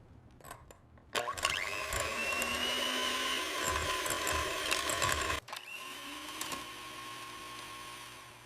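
Cake batter being beaten with an electric mixer, a steady motorized whir running for several seconds, briefly interrupted, then continuing at a slightly different pitch.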